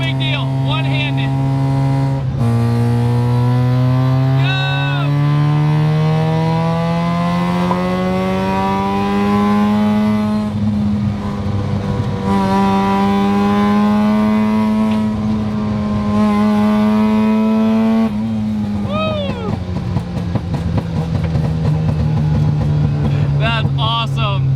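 Mazda FC RX-7 rotary engine pulling in third gear on Hoosier tires, a loud buzzing drone that rises steadily in pitch through long sweeps, easing and climbing again, heard close from inside the car under intermittent talk.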